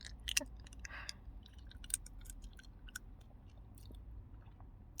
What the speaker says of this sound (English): ASMR, eating hard candy, and talking